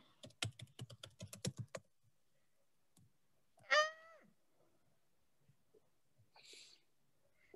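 A computer keyboard being typed on: a quick burst of crisp, close key clicks in an uneven rhythm that stops after about two seconds. A short meow-like vocal sound and a faint later noise follow in an otherwise quiet room.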